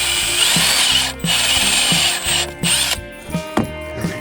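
A power drill with a step bit whines steadily while enlarging a hole in a metal plate for the floor of a 1978 International Loadstar 4x4, with rhythmic grinding and catching pulses as the bit bites, loud and close.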